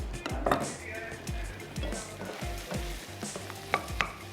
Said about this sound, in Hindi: हल्का सा पकाते हैं प्याज और शिमला मिर्च को, थोड़ा सा सॉफ्ट रखना है।